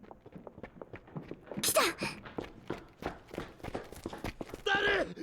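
Footsteps climb a staircase in Steins;Gate 0: a steady, evenly paced run of soft thuds that draws nearer, with a brief spoken word and some breathy sounds over it.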